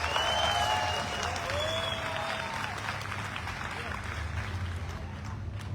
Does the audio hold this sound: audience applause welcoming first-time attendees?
yes